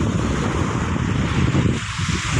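Sea waves wash steadily onto a beach beside a hotel with boats moored along the shore, a loud, continuous surf rush mixed with wind buffeting the microphone and no voices.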